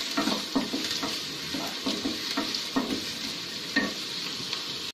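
Onions fry in a pan with a continuous close sizzle, broken by repeated soft scraping strokes of a stirring spoon, with no voices.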